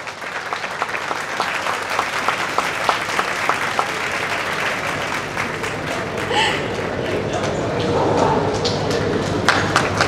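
Hall audience applauds at an award ceremony, sustained dense clapping with some individual sharp claps standing out, holding steady throughout with a slight swell near the end and faint voices beneath.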